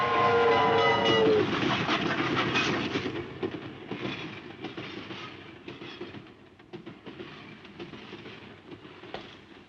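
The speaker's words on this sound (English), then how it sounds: "Train muffled it." A train rolls past in a mid-century film, loud at first with a brief horn, then a sustained rumble and rhythmic wheel clatter that gradually fades.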